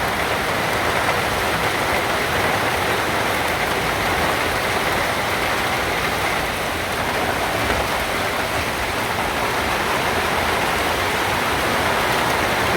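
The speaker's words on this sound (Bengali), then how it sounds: "দেখেন বৃষ্টির অবস্থা।" Heavy rain pours down steadily in a loud, dense wash of water that continues without a break, with wind up and cattle out getting soaked nearby.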